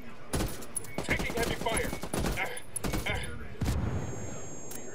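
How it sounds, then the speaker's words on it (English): Heavy automatic gunfire in the Ghost Recon Wildlands Ghost War online match: dense, loud bursts of rapid shots crackle back to back, with a short lull before another volley, and players' voices come through under the shooting. "Taking heavy fire."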